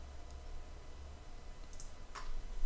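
A computer mouse clicks while a Sony Vegas project is set up, with a few faint, sharp clicks scattered near the start and a couple more toward the end over quiet room noise.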